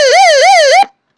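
An emergency radio's built-in electronic siren wails loud and close, up and down in a quick repeating cycle for under a second, then cuts off abruptly into silence.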